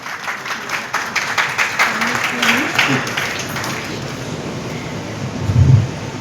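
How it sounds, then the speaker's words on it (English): An audience applauds a chief guest at a university welcome ceremony in Haryana, with a broad, steady wash of clapping heard at a slight distance under wind-like noise, with some voices mixed in. "A big round of applause for sir."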